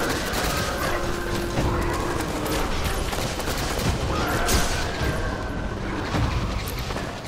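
Sustained sci-fi gunfire from the shooter game Destiny, set in the Buried City and aimed at Vex enemies, with dense overlapping shots and impacts forming a steady loud barrage throughout.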